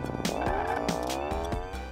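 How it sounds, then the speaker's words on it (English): A car in the video game Death Road to Canada drives off, its engine revving upward with squealing tires and a few thumps, loud and near with no talk. "so we'll hop on in our car"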